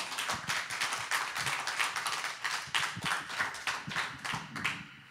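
Audience applause at a Christian Advent worship music café evening, a close, lively burst of rhythmic clapping that continues steadily throughout.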